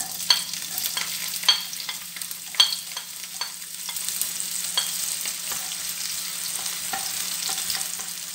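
Chopped onions hit hot cooking oil in a pan for turkey kaldereta and set off a steady close sizzle, with a few sharp pops early on and a constant hiss throughout.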